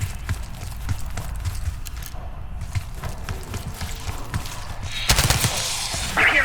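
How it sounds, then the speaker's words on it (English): Gunfire in the Call of Duty: Black Ops 6 campaign sounds as scattered, muffled shots at a distance over low ambient rumble, then a louder burst of fire near the end. "You hearing gunfire?"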